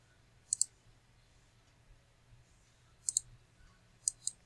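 Computer mouse clicks while working in an ASP.NET Core MVC project: three quick double-clicks, crisp and close, spaced a few seconds apart against a quiet background.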